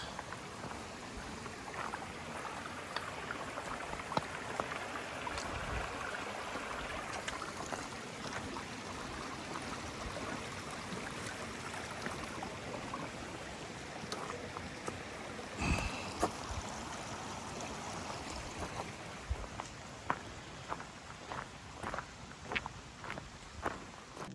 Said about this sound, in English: Just a nice little water crossing.